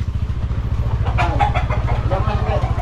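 A chicken clucks in a few short bursts close by, over the steady low pulsing drone of a nearby idling motorcycle engine.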